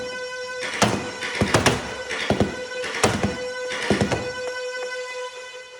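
Foam dart blaster firing a magazine of blue Ekind full-length darts: a quick series of thumping shots in uneven bursts over a steady motor whine, loud and close.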